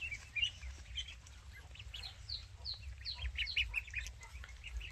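Ducks on a farm, many quacks and chirpy calls overlapping at moderate distance, a busy continuous flock chatter over low background rumble.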